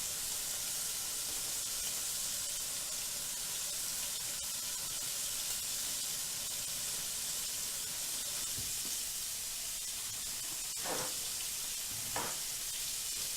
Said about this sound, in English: Can y'all hear that frying pan?